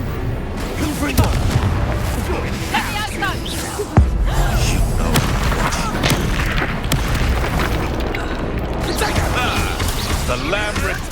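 A Confringo fire spell explodes in the Hogwarts Legacy video game, with a sharp booming blast near four seconds amid dense, continuous battle noise and music, loud and close throughout.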